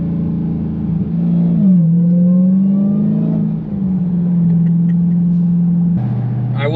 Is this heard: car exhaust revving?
yes